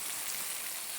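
Pork pieces sear in a hot cast iron pan, giving a steady, soft, even sizzle with no breaks throughout.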